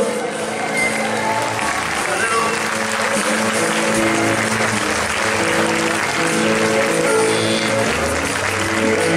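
Strong applause from an audience for an orchestra at a musician's birthday tribute, many hands clapping steadily over a sustained musical tone, with crowd noise mixed in.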